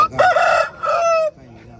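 An Aseel rooster at a Saturday fowl market in Mydukuru lets out one loud, close crow in two drawn-out sections, ending abruptly into quieter background.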